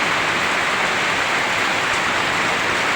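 Steady, dense rain falls over a farmyard where water has pooled, a continuous loud hiss with no break or voices.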